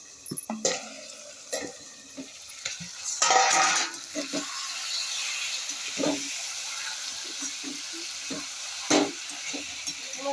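Potatoes cooking in a kadai-style wok over a gas stove, with a steady sizzling hiss and repeated clinks and scrapes of a spoon stirring against the metal pan, close by, with no talking.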